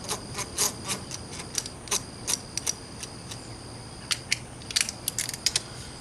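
A socket wrench works a bolt during a spark plug change on a Pontiac G8 V6, with a series of quick metallic ratcheting clicks in irregular bursts over a low background hum.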